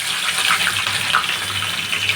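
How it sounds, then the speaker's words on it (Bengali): Sarputi fish frying in mustard oil, a dense, loud, steady sizzle and hiss close by with no voices during it. "সরিষার তেল দিয়ে ভাজবো সরপুঁটিটা।"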